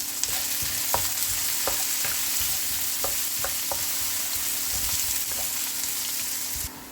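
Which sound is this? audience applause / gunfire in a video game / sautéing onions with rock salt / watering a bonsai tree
sautéing onions with rock salt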